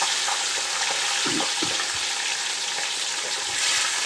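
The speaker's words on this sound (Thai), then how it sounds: "วันนี้เราก็ทำการทอดปลาก่อนแล้วจะทำการ เอามา จูชี ใช้ไฟอ่อนๆครับ" Fish fries in a pan over low heat, giving a constant close hissing sizzle with occasional soft pops and stirring bumps, steady throughout and without voices.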